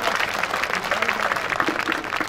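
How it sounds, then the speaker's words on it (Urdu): Dense applause from a mushaira audience in Rampur fills the space continuously, many hands clapping at once, with a voice faintly audible underneath. "ایک زوردار تالیوں میں ان کا استقبال کریں"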